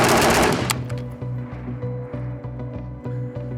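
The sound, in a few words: gunfire from a PSA 5.56 Krink rifle with muzzle brake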